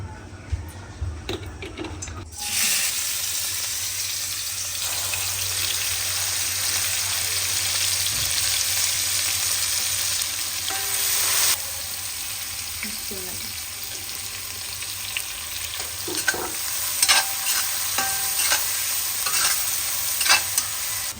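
A curry starts in oil left from frying fish, jumping into a loud crackling sizzle after a quiet start, then steady frying with stirring scrapes and occasional clinks, a voice briefly heard.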